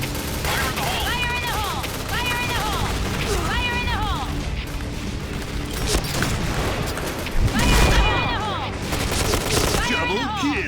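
Heavy, continuous gunfire from powerful guns in a first-person shooter game, loud bursts of rapid fire running almost without pause, with a few heavier booming hits and a voice talking over the shooting.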